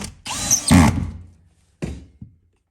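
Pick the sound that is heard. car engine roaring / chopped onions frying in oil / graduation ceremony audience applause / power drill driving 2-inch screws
power drill driving 2-inch screws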